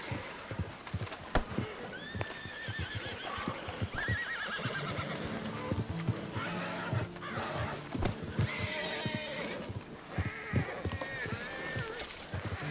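Horses whinnying and neighing over steady clip-clopping hooves, several animals close by, with a bit of movement noise around them, in the video game Red Dead Redemption 2.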